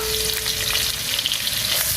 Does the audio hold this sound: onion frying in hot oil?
yes